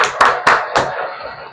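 Three loud, close hand claps come in quick, slightly uneven succession, then fade into quiet room sound.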